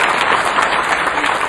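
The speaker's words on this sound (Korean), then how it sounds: "우리 한번 박수 쳐드립시다" A lecture audience breaks into brief applause, a short burst of close, busy clapping that fills the room.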